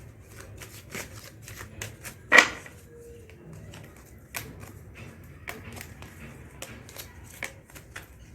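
Tarot cards are shuffled and flicked nearby in a run of quick, papery riffles and taps, with one louder snap-like burst early on and softer card clicks following, no speech heard.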